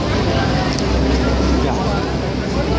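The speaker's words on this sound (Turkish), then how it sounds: "Vapur sesi geldi." A ferry boat on the water at Niagara Falls, its engine a steady, dense low rumble that holds throughout, with people talking over it nearby.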